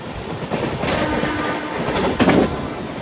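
Visakhapatnam–Prayagraj weekly special train running nonstop, a steady rolling rumble with wheel clatter heard from on board, swelling into a louder rattling burst near the end.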